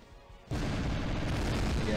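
A tank shot explodes in the artillery game Shellshock Live 2, a sudden loud broadband blast that erupts after a quiet half-second and sustains as a dense roaring rumble to the end.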